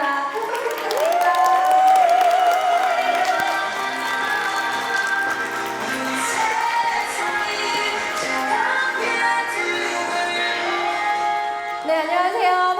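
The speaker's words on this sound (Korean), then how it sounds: "큰 박수 부탁드립니다." Sustained audience applause at a USANA business event in a hall as a speaker is welcomed to the stage, a dense patter of clapping lasting throughout with a faint voice near the end.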